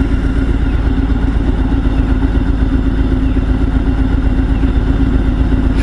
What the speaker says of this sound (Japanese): 100ぐらいアイドリングが上がってる。